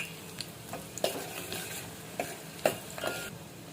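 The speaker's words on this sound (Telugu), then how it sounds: "తాలింపు గింజలు వేసుకుంటున్నాము" Tempering seeds, dried red chillies and crushed garlic sizzle softly in hot oil in a pot, with a few sharp spoon clinks and scrapes as the mix is stirred.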